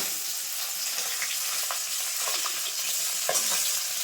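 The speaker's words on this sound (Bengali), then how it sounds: "মাছগুলো কিন্তু এক সাইড ভাজা হয়ে গেছে এখন উল্টে দেবো মাছগুলো" Small chela fish fry in hot oil in a karahi as they are flipped, a steady close sizzle with faint scraping stirs and light spatters throughout, no voices.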